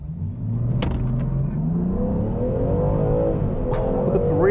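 A 2022 Land Rover Defender 90 with a straight-six engine and the transmission in sport mode accelerates hard from a standstill, its engine rising in a loud, steady climbing rumble, with a brief voice-like burst near the end.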